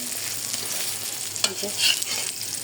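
Slices of eggplant fry in a pan with a continuous soft sizzle, and a couple of brief scraping or clinking touches from a utensil partway through.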